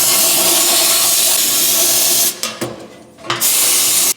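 Compressed air blasts through Evo 8 car parts during a rebuild, a loud close hiss held steady for two seconds, then broken into short sputtering bursts before one final strong gust cuts off abruptly.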